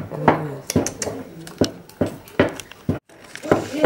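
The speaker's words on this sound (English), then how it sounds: "I didn't know you had to beat so hard for a porridge" A utensil beats maize meal porridge with organic peanut butter in a pot. It makes repeated hard knocks and scrapes against the pot at an uneven rhythm, close by, with a voice faintly underneath.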